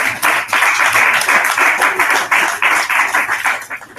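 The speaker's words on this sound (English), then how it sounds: "And a big round of applause for Mark," A crowd at a literary prize longlist announcement in Kolkata claps for an eminent journalist, loud and close, a sustained burst of many hands that thins toward the end.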